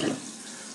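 Water runs from a tap for a brief moment while something is rinsed, a steady splashing rush at close range.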